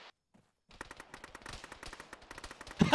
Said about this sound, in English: I hoped that was not them shooting him.